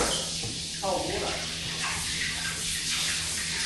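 Cold water runs and splashes over hot freshly poured gold at an Australian gold mining town, a steady hiss with bursts of spray and a low hum beneath.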